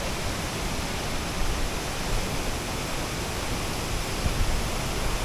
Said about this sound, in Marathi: इकडून धबधबा. पाणी असं थेंब त्याचे पाण्याचे थेंब असे स्प्रेड होत आहेत.